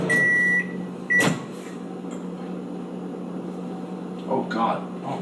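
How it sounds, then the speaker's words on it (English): A microwave oven hums with a steady low drone while heating a breakfast corn dog, broken by beeps and a door clunk early on, with faint talk and handling sounds near the end. "you probably just microwave this, right?"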